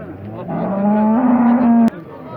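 A cow at a livestock bazaar gives one long, loud, close moo that rises slightly in pitch and stops abruptly. Quiet background murmur follows.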